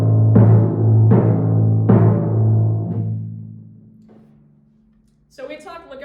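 Timpani struck with mallets in legato strokes, four full, warm, resonant hits about a second apart that ring and decay together into a sustained low tone, after which a person begins talking.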